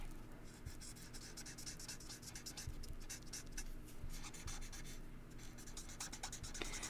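A Stampin' Blend alcohol marker colouring on card stock, a faint, close, continuous scratchy rubbing of felt tip on paper with repeated short strokes over a low background hum.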